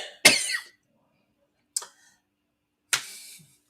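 Three separate coughs spaced a second or more apart, the first harsh and strongest, with silence in between.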